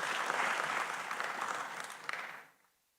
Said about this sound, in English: Let's clap for the management.